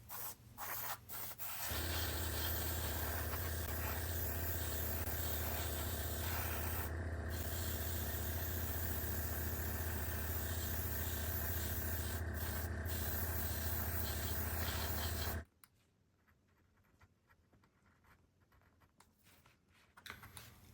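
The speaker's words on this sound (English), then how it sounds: "I will seal the paint with a glossy varnish." Glossy varnish sprays over a painted 1/72 E-2C Hawkeye scale model in one long, close, steady hiss lasting about fourteen seconds, then stops abruptly, leaving faint room noise.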